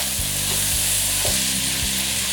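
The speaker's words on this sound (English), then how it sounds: "Now give that a gentle stir." Tomatoes with crayfish and njanga sizzle and fry in a pot for a Cameroonian garden egg stew, a loud continuous hiss with a few soft rhythmic stirring knocks, close and alone.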